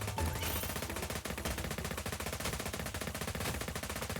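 Gatling gun turrets in the tower-defense game Rift Riff firing in rapid continuous bursts, a dense loud mechanical rattle that runs unbroken throughout with no talk.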